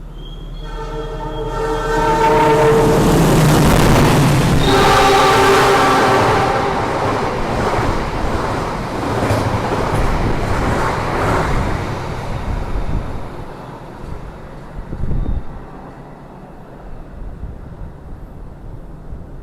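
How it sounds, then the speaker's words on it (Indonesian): The Malabar passenger train from Malang to Bandung rushes past at speed in the morning, opening with a loud horn blast and heavy roaring wheels that slowly fade into a distant rumble. "Itu dia kereta api Malabar dari Malang tujuan Bandung di pagi hari"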